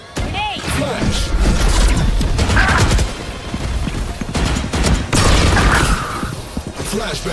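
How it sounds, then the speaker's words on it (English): A flashbang grenade goes off in a competitive esports shooter match, with loud, broadband bursts hitting twice amid busy game noise and excited voices talking over it. "Flashbang!"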